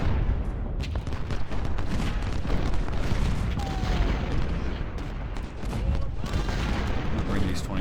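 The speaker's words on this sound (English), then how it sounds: "artillery's having a hard time causing damage in these woods" Civil War cannon fire rolls through a battle in Ultimate General: Civil War, with Confederate artillery in woods during the Siege of Jackson; a steady din of booms and musketry crackle persists throughout.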